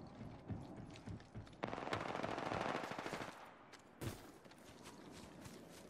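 Machine gun bursts rattle during a video game air combat fight, with a sustained rapid volley in the middle, shorter bursts around it, and a sharp hit near the end.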